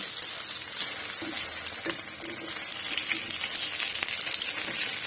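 Flour-coated eggplant slices frying in a little oil in a pan, giving a steady soft sizzle with faint crackles throughout and no talk.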